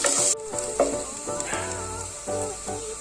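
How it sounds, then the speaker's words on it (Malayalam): Chopped small onions fry in hot coconut oil with popped mustard seeds for kozhukattai, a steady close sizzle broken by occasional clinks of stirring. "ഒരു ബ്രൗൺ കളറാകുന്നവരെ നമുക്ക് വറുക്കാം"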